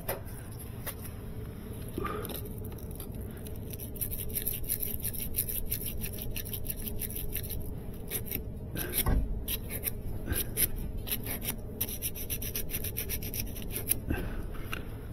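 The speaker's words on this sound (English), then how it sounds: "So I'll get a piece of sandpaper." Sandpaper scrubs copper refrigeration tubing during a freon leak repair, producing a steady close-up rasping rub that continues without pause, with a few brief louder scrapes and no talk.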